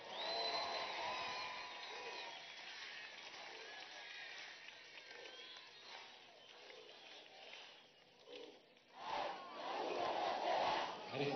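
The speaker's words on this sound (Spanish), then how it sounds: "Un aplauso a Aristóbulo, ¿vale?" A large crowd at an outdoor political rally in Plaza O'Leary roars and cheers continuously, with shouting voices and a swell of noise near the end, set well back and muffled.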